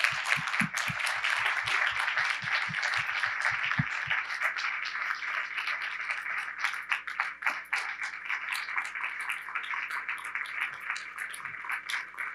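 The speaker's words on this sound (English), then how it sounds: "Let's give a big round of applause for all of our students." A school district legislative meeting audience applauds its students with sustained, dense clapping that holds steady throughout, fairly loud and close, with a low rhythmic thump in the first few seconds that then drops away.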